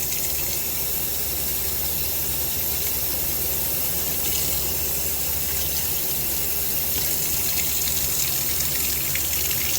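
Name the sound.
water flushing through orchid pots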